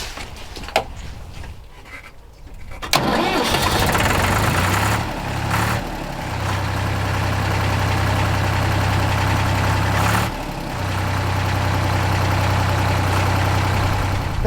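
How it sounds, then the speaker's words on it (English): Deutz 5206 three-cylinder air-cooled tractor at a farm auction starts after a few quiet seconds, then idles with a steady low throb and a brief dip in the middle, heard close up. "Nice little Deutz 5206 local tractor with a ECF sticker on it, 3-cylinder air cooled"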